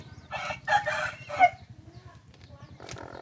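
Chickens cluck and squawk up close in short bursts, with a low rhythmic hum underneath and a brief noisy rustle at the end.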